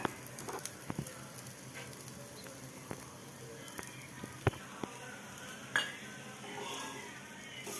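Ridge gourd dosa fries in oil on a pan with a soft, steady sizzle up close, broken by occasional spatula scrapes and metallic clinks.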